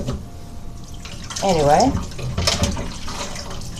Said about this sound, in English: Got that water nice and hot. Dumped it on top